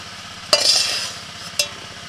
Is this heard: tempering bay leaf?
yes